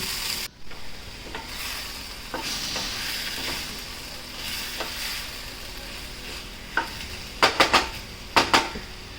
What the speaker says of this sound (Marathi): भाजीला थोडंसं परतून घ्यायचं तेलामध्ये.